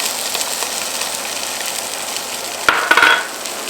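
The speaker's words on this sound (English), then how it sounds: "onion and eventually paprika that's gonna cook in this fat" Onions frying in fat in a pot for Hungarian goulash beef stew, a continuous close hiss and sizzle that flares louder for a moment near the end as the pot is stirred.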